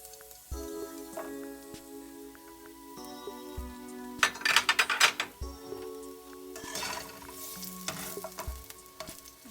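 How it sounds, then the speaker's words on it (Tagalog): Garlic sizzles and crackles in hot oil in a pan for shrimp curry with potato, with a utensil stirring and clinking against the pan in bursts, close up. "kapag mainit na po siya, kailangan niyo pong ilagay ang inyong garlic"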